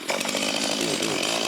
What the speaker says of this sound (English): I'm running a chainsaw or got the generator on throughout this entire